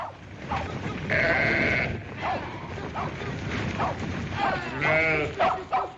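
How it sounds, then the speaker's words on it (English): Several sheep bleat nearby in wavering, overlapping calls, some drawn out, with other livestock noise and a brief rustle between them. "Come on, get them sheep moving."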